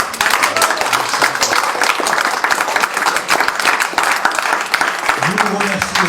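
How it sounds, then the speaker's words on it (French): Audience applause at a public tribute event in Martinique, a dense, steady clapping that runs throughout, with a voice briefly audible near the end. "on demande au public encore une fois de vous applaudir"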